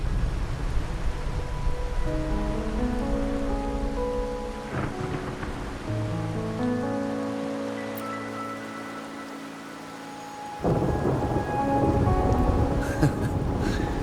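Steady rain pours in the video game Wuthering Waves as thunder rumbles, with tonal music notes layered over the storm and a louder burst of rain toward the end.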